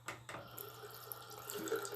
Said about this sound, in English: You're gonna hear me turn on some water.